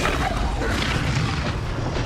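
A Confringo fire spell explodes in Hogwarts Legacy on Xbox Series X: a deep, continuous roaring boom that fills about two seconds without easing.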